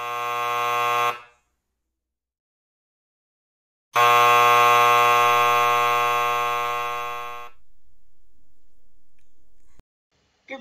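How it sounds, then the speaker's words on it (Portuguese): An electronic doorbell chime sounds twice, a short ring, then a pause of a few seconds and a longer, brighter tone that slowly decays, followed by near silence. "Campainha"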